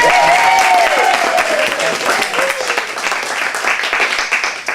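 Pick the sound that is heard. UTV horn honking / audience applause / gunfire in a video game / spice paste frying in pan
audience applause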